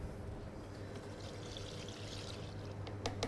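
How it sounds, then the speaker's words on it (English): Milk pours into a Thermomix bowl during soufflé preparation, a soft continuous liquid trickle over a low steady hum, ending with a couple of light knocks. "And then add your milk."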